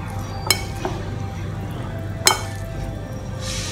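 Tuna salad being mixed with oil in a bowl: soft wet stirring throughout, with two sharp utensil clinks against the bowl, close up and without speech.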